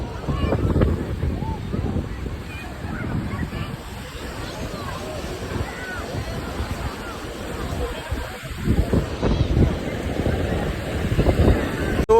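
Sea waves surge and wash onto the beach at Shivrajpur, a rough, broad roar with buffeting wind. Crowd chatter sits underneath, and the surf rises again toward the end.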